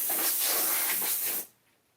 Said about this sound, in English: now we're going to spray off the PS4 and PS3